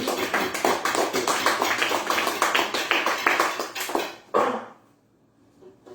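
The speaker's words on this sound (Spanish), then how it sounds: "Le damos un fuerte aplauso a nuestro Dios." Church congregation clapping in a quick, rhythmic run of sharp claps for about four seconds, close and fairly loud, ending in one final strike before the room falls nearly silent.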